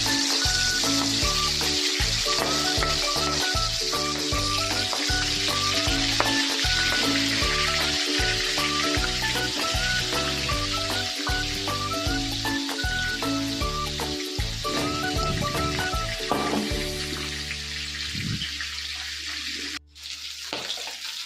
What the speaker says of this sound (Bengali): ভেটকি মাছের মাথাটা ভাজা হয়ে গেছে।